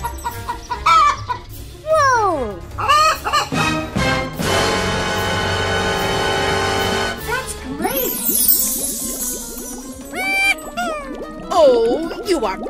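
A video game chicken clucks and squawks in bursts, loud and close, with a sustained crow-like call in the middle and further clucking afterward.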